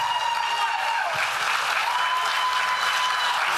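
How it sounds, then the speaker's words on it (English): Steady audience applause for senior queen pageant contestants, a dense wash of clapping filling the room from start to finish with faint crowd murmur beneath. "And how about another big round of applause for all of our contestants tonight?"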